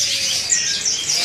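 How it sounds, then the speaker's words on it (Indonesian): A canary chirps in quick, high, warbling bursts, close and fairly loud, with a faint rustle of background noise. "Kenari F1. Ini kenari"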